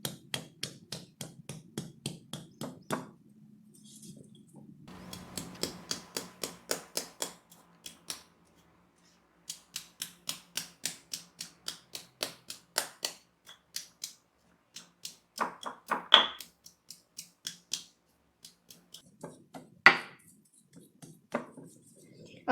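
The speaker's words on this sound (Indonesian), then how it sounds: "Kita haluskan juga kunyitnya ya." Turmeric and candlenuts are pounded into spice paste for Padang fried chicken with serundeng, producing quick rhythmic knocking strikes in bursts with short pauses, close and clear.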